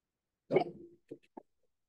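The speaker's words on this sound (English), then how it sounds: "Clearly, my dog wanted to say something first." A dog gives one short, muffled bark followed by two faint yips, heard faintly in a quiet room during an online meeting.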